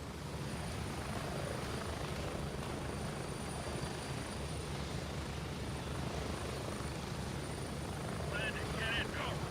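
A helicopter in the military shooter game Gray Zone Warfare sets down with a steady, loud rotor and engine drone that fills the whole stretch, a voice talking over it.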